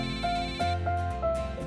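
A phone rings close by with a repeating electronic melody of short tonal beeps that comes in a steady rhythm, and it sits over a synthetic musical backing.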